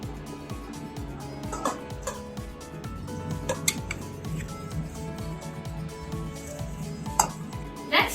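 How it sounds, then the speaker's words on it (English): A whisk is stirred through dry baking ingredients in a bowl, making a steady, rhythmic scraping and clinking against the bowl's sides, moderately close and with no voices. "And just whisk it."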